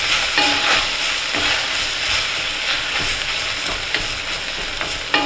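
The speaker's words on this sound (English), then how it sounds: "And we're gonna give that a good stir." New Mexico chili, California chili powder and cumin being stirred into a smoked brisket chili, a loud continuous sizzle with repeated scraping stir strokes, close and without voices.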